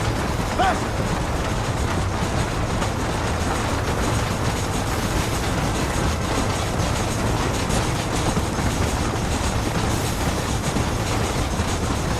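Steady, dense train rumble in the video game Red Dead Redemption, with a rhythmic clatter of wheels on rails, continuous and loud throughout.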